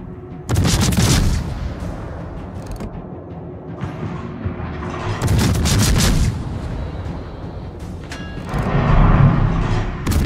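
Naval guns fire in the video game World of Warships, with three heavy booming salvos spaced a few seconds apart. Mechanical creaks and rumble fill the gaps between them, and no one speaks.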